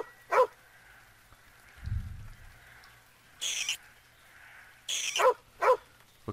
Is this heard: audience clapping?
no